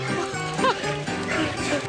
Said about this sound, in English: so in love with the slobbering, panting, trampling dogs